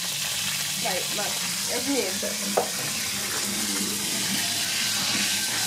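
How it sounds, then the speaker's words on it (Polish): Oil frying hard in a pan on a home stove while cooking for a holiday, a loud continuous sizzle with spattering crackles, close up, with brief speech over it. "Olej się bardzo smaży, się aż pryska wszędzie"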